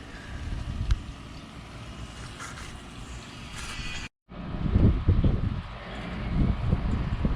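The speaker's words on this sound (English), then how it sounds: "here comes that wind" Wind gusts outdoors buffet the microphone in a rough, rumbling roar that briefly cuts out, then returns stronger.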